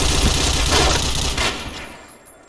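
Rapid gunfire from dual Kriss submachine guns in the online shooter Point Blank, a loud dense burst of shots that tapers off after about a second and a half.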